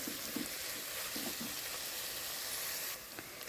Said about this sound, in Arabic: نفضل بقى كده نقلب لحد ما البصل ياخد لون